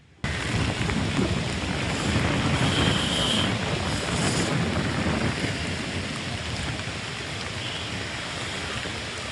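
Heavy rain pours down in Chennai as Cyclone Ditwah weakens, a dense, loud, continuous roar with wind buffeting the microphone, lasting several seconds without any voices.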